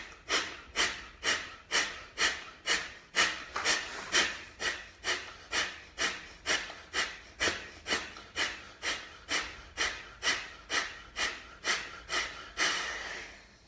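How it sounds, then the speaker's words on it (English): A person doing piston breathing drills, with about twenty-five quick, forceful, evenly spaced breaths in a steady rhythm, each one a sharp rushing huff, close and clear with no talk. "Okay, so piston breaths look like this."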